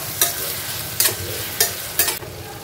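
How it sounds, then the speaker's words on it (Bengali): Onion, tomato and chilli frying in hot oil, with a steady sizzle and four sharp stirring scrapes of a spatula in the pan, up close. "তেলটা হয়ে গেছে গরম, আমি পেঁয়াজ, টমেটো আর লঙ্কাটা দিয়ে দিলাম।"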